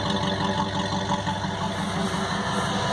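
A Chevy truck with a freshly rebuilt motor and brand new exhaust and muffler idles steadily up close, a continuous low rumble with no revving or talk.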